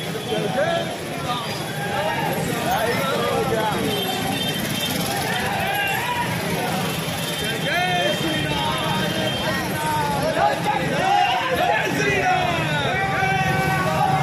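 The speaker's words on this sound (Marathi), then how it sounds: "इकडे जय जय श्रीरामचा घोषणा वाक्य चालू आहे जोरात।" A large crowd near the Kashi Vishwanath Temple in Uttar Pradesh loudly chants Jai Shri Ram, a dense, steady roar of many voices that never lets up and fills the whole stretch.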